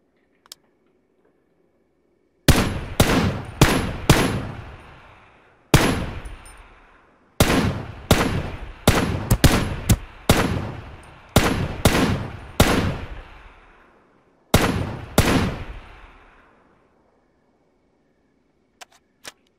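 Gunfire in the battle-royale game Ring of Elysium: about a dozen loud, sharp shots fired in spaced bursts of two to four with short pauses, each cracking out and decaying quickly, with no talk over them.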